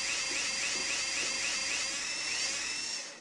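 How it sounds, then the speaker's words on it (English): In the Tonka Workshop computer game, a power drill bores holes in toy wheels, giving a steady high whine with repeated rising pitch sweeps for about three seconds before cutting off, with no voices. "Drill holes in the wheels so you can put them on the axles."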